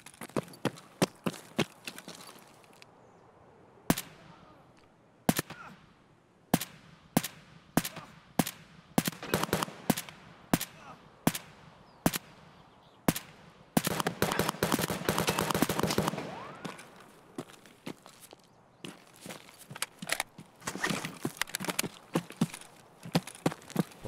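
Sharp gunshots ring out in Escape From Tarkov: scattered single cracks and quick bursts spread across a long, tense stretch, with one denser flurry of fire in the middle and no talking.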